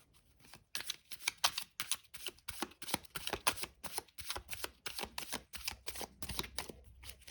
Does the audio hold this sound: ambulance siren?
no